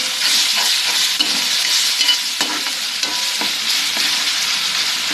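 Onion, tomato, ginger and garlic sizzle steadily in a hot pan while a spoon scrapes and stirs them in irregular strokes, close up, with no voices.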